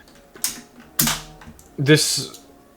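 Switches being pressed into a KBD75V2 custom mechanical keyboard give three sharp, separate clicking snaps close by, with a voice briefly heard among them.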